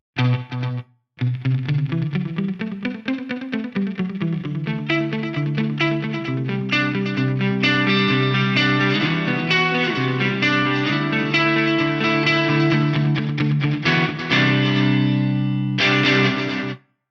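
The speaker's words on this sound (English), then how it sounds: "Let's add a bit of delay now." Distorted electric guitar playing chords and a sliding riff through an Eventide H9 delay effect, with repeating echoes trailing each note and a washy, spacious tail; loud and continuous.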